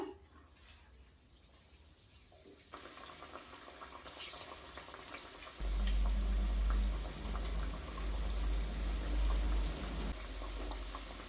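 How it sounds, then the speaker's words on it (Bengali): Thin onion-coated bread pakoras go into hot oil, a bubbling, crackling fry that grows louder and fuller partway through and continues steadily up close. "দেখুন তেল গরম হয়ে গেছে দিয়ে দিলাম"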